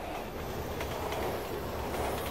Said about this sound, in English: The zombie's dead because of the train,